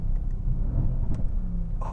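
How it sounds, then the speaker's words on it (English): Mercedes-AMG C63S with its 503-hp bi-turbo V8 sends out a deep, steady engine and exhaust rumble, a close, continuous low growl with brief rises and no talk over it. "You got that amazing bi-turbo V8 sound"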